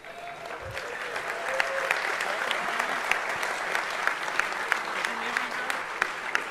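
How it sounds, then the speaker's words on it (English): A large crowd applauds at the DEF CON 20 hacking conference closing ceremony: a sustained, loud roar of dense clapping with occasional sharper claps standing out, and voices mixed in underneath. "They were clapping you"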